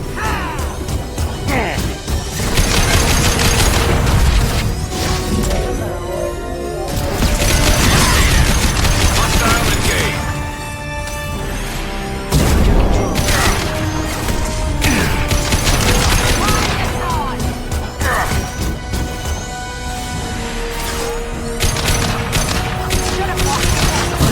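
Video game battle gunfire bursts and booming impacts recur throughout, loud and chaotic, mixed with music and voices talking over the fighting.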